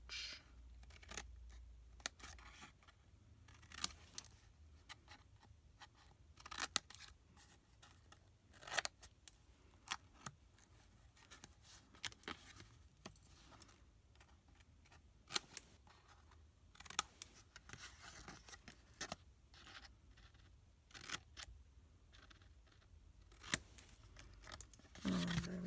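Scissors snipping through card while making a handstamped embossed gift box, with many quiet, close, crisp cuts coming in irregular clusters over a faint room background for the whole stretch.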